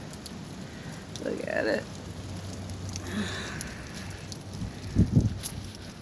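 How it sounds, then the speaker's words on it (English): Wind and rain storm outdoors in a yard, a steady broadband wash of gusting wind and falling rain with a couple of louder bursts near the end, while someone talks briefly over it. "just wind and the rain."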